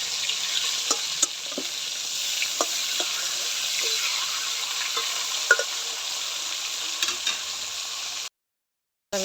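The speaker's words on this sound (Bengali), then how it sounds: "ভালো করে ভেজে নেব মাছগুলো।" Carp-type fish sizzling steadily in hot oil in a pan, a close, continuous crackle broken by occasional sharp pops and stirring clinks, with no talking.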